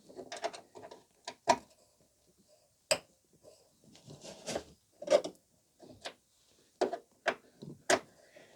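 Allen key working a single 5mm bolt on a BMW 116 accelerator pedal, giving a run of separate close metallic clicks, scrapes and ratchety rubs, irregular and quiet, with no talk.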